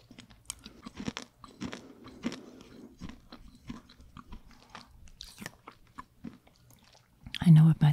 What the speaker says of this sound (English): It's crunchy, but not crunchy to the point that I would break my teeth.